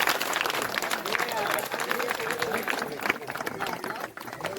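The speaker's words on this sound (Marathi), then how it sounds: "जोरदार टाळ्या." Loud applause from a crowd at a local celebration, with thick, continuous clapping mixed with voices and chatter and a brief dip near the end.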